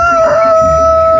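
Ranch rooster at a livestock market in Chalco, with a strong sustained tonal crow running through the whole short clip, loud and close against a busy background murmur.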